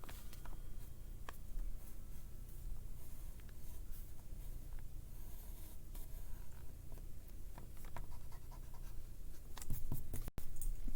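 A pencil sketches on paper while drawing a cartoon straw hat for a figure of Monkey D. Luffy, giving close, soft scratchy strokes in quick irregular bursts that continue steadily throughout.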